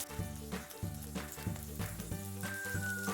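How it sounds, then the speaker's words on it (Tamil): Dried fish frying in a pan with onion and garlic, a steady close sizzle with crackles running throughout, no talk. "ஃப்ரை பண்ணி கொண்டு இருக்கும் பொழுது இப்போ வெட்டி வச்சுருக்கிற வெங்காயம் உள்ளி எல்லாம் வந்து ஆட் பண்ணி கொள்ள போகிறேன்"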